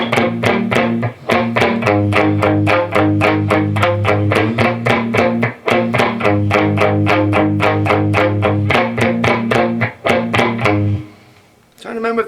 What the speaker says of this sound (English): back to clean channel. It's got a tiny bit of grit in it, but here's this part.